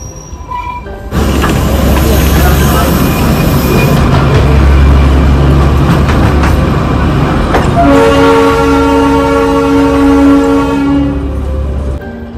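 The Darjeeling toy train runs on mountain rails with a loud, continuous rumble and rattle. Its wheels squeal throughout, and a sustained horn-like tone sounds near the end.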